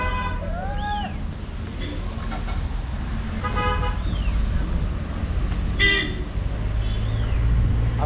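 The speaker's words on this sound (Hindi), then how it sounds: "पूरा ट्रैफिक ही ट्रैफिक।" Busy morning street traffic in Mussoorie, with several car horns honking in short toots over a steady roadway rumble.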